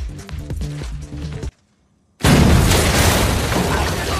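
A sewer line blown up in the film Fast Five: after music and a brief silence, a sudden loud blast erupts into a sustained roaring, crackling rumble that fills the remaining seconds.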